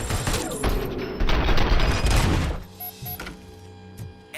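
Rapid bursts of heavy ED-209 robot gunfire in the RoboCop: Rogue City video game, a dense, loud fusillade lasting a couple of seconds before stopping abruptly, followed by scattered softer thuds and electronic tones.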